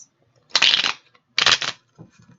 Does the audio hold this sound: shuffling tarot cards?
yes